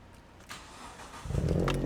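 A car engine cranks and catches during a repair with the camshaft sensor left unplugged, turning over faintly then settling into a loud, steady idle rumble close by.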